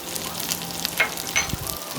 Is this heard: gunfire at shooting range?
no